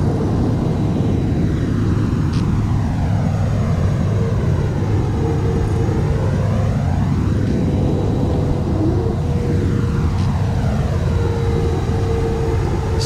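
Cebu Pacific Airbus A320 landing in a flight simulator with spoilers deployed and reverse thrust, a steady loud jet engine roar and rumbling wind noise throughout, with sweeping tonal whine rising and falling.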